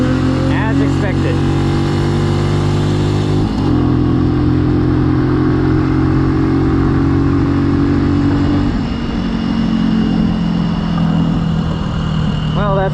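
A Benelli mini bike's small engine runs steadily and loudly at close range, holding a droning buzz whose pitch drops in steps as it shifts down, with no talk over it.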